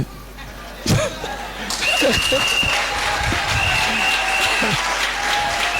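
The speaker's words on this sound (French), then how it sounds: "Acclamez le Seigneur très fort" A church congregation at a prophetic gathering bursts into loud, sustained applause and cheering for the Lord, with voices calling out amid the clapping.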